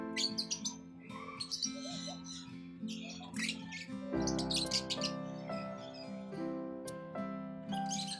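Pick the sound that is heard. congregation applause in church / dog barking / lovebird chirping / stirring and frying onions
lovebird chirping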